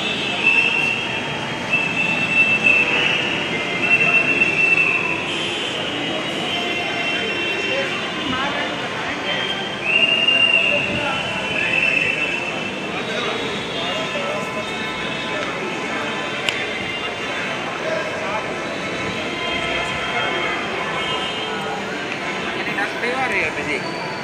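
A Lucknow Metro train runs at Transport Nagar station, its wheels rumbling and squealing in high-pitched streaks, with station ambience and people talking throughout.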